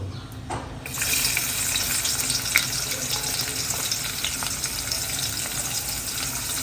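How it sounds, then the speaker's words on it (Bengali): Chopped onions fry in lightly heated oil, giving a steady, close hiss and crackle that starts abruptly and runs without a break, with a few faint clinks over it. "এখন আমি তেলের মধ্যে পেঁয়াজ কুচি দিয়ে দেবো"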